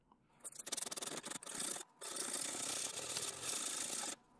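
A forged knife blade worked by hand with a file, steady rasping strokes in a rhythmic run, close and fairly quiet, with a brief pause before the filing resumes.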